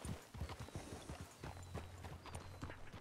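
Horse hooves clip-clop at a steady walking pace in the RedM game, close and fairly loud, with a low steady hum underneath.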